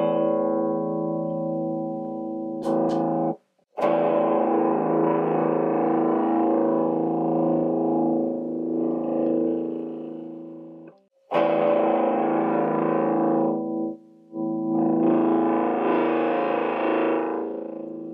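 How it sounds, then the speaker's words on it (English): Heavily distorted electric guitar chords ring out through an effects pedal, sustained and buzzing, broken by a few brief silent gaps between strums. "So this is some sort of a distortion effect."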